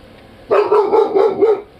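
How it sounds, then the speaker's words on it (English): A dog barks repeatedly in an agitated, alarm-sounding string of about five close, loud barks, coming in quick rhythmic succession and then stopping abruptly, with no talking over it. "He's barking up a storm."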